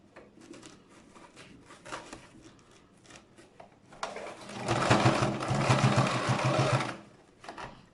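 A sewing machine stitching a homemade hat runs in one steady, whirring burst of a couple of seconds, close and fairly loud, after a stretch of quieter handling and fabric noise.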